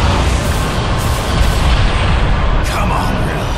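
Ship cannons fire in Bulletstorm in a loud, continuous barrage of heavy booms and deep rumbling, close and overpowering.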